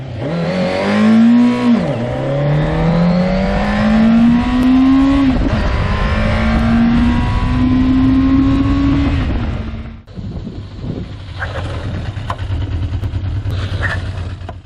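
A Yamaha FZ750 motorcycle with a 750 cc engine revs loud and close, the pitch climbing in repeated pulls as it rides off, then the engine note drops to a lower, more distant idle-like rumble.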